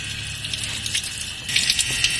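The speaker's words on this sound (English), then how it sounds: "Let's drain water out of this tank for the first time." Water drains from a gray water tank mounted under a Ram Promaster camper van, giving a steady, continuous rushing hiss that swells slightly louder near the end, with no talking.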